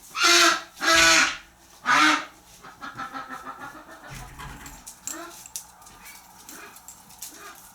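A duck quacks loudly near water in a barn setting, three harsh calls in quick succession followed by softer scattered rustling and faint noises.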